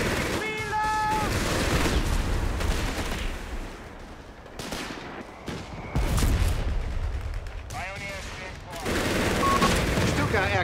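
An MG-42 machine gun fires in Company of Heroes 3 amid a busy wartime battlefield, with rapid bursts and scattered shots repeating loudly over rumbling combat while voices call out in between.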